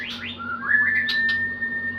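Bright chirps and a sustained whistled note from an oriental magpie-robin, fairly close, with a low steady hum underneath.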